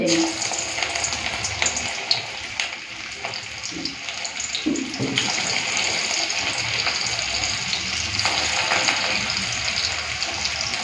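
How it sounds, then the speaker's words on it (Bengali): Lentil fritters made from biuli dal sizzle in hot oil in a wok, a continuous close hiss with a few soft low bumps early on, under intermittent quiet talk. "ভালো করে বড়াগুলোকে লালচে করে ভেজে নেব"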